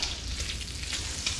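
Bacon fries in a pan with a soft, steady sizzle and faint crackles, quiet and close, with no talk.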